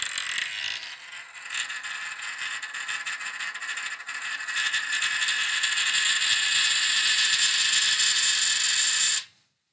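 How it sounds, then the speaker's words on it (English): A $2 coin spins on a table with a close, continuous metallic whirring rattle that grows louder and busier for about nine seconds, then cuts off abruptly. "It is a coin spinning on a table."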